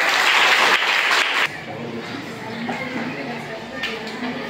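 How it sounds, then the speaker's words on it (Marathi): Audience at a school general-knowledge quiz breaks into loud, dense clapping that cuts off after about a second and a half, leaving quieter room noise with a voice faintly murmuring underneath. "याच्यासाठी सगळ्यांनी जोरदार टाळ्या."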